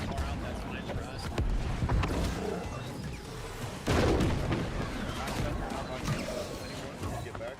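Cannons firing during a large war battle in the video game New World, a dense barrage of booming blasts and crackling impacts under constant talk, with a heavier explosion midway.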